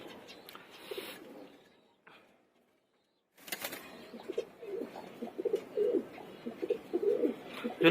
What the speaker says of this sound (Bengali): কবুতরও গোসল করতেছে, এখানে পাখিগুলোকেও দিলাম।